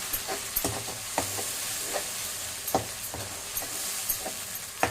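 Masala spices with pepper, cumin, fennel, tomato, onion, ginger, garlic and curry leaves sautéing in hot oil for a crab gravy, a steady soft sizzle broken by regular stirring clicks, close and moderately loud.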